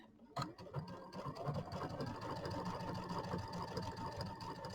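A home sewing machine runs a triple stitch through pillow covers, a steady close whirring rattle that starts abruptly after a brief pause and continues evenly with no talking.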